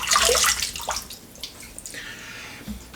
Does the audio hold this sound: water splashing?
yes